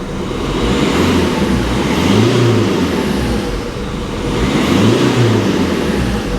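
Fiat 500X engine running close up, a steady loud roar that swells twice as it is revved and eases back between, with no talking.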